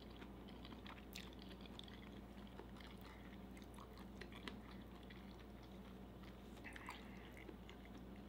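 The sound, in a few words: chewing a bite of bacon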